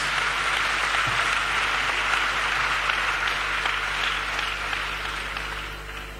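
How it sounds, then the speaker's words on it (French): A church congregation applauding steadily in a reverberant hall, a dense sustained wash of many hands clapping that slowly fades toward the end. "Acclamons pour Jésus-Christ."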